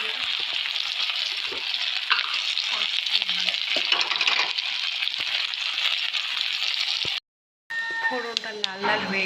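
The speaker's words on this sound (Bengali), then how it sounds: "আমি এখন ডালে ফোড়ন নেবো" Whole spices tempering in hot oil for dal hiss with a dense, steady sizzle, up close and loud throughout. A brief silent gap comes near the end, then the frying resumes with faint clinks. No voice is heard.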